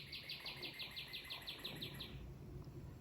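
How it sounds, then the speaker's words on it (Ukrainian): A small songbird trills outdoors on a quiet day off in the US, a rapid run of about a dozen bright repeated notes for two seconds, moderately near, over faint insect hum and background hiss. "зробила паузу, притихла, бо пташка дуже гарна. тьохкала"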